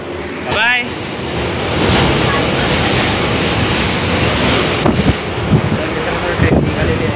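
A departing passenger train gives a brief whistle-like tone near the start, then a continuous heavy roar of the moving train, with wind buffeting the microphone and a few sharp knocks toward the end.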